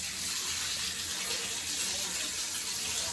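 A shower head with its flow restrictor removed sprays a strong, steady rush of water, close and continuous with no breaks and no voices.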